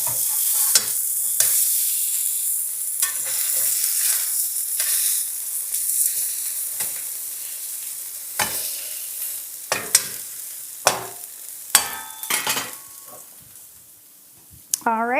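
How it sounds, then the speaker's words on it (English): Fish sizzles in a hot frying pan once flipped, with scattered clicks and stirring scrapes of utensils over the hiss, and bits of talk rising near the end. "Let's go flip our fish."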